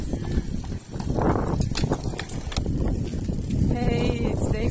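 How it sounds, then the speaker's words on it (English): A horse passed on a roadside during a cold early-spring trike ride, with hoof clip-clop and snorting or bleat-like calls amid outdoor noise and a faint voice. "Wow, horse."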